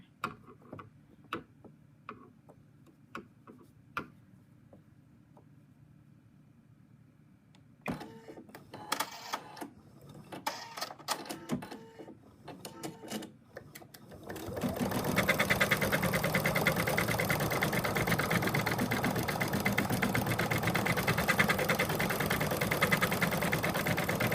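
An embroidery machine stitches an applique positioning line for a cat design, starting with sparse ticks and clatters, then settling into a loud, steady, fast mechanical whirring that runs continuously to the end.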